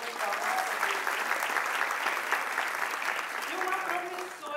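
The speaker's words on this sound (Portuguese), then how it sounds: "Uma salva de palmas." A panel audience at the Menos30 Fest, at a session on technology in education, applauds steadily and fairly densely throughout, with some voices audible in the mix.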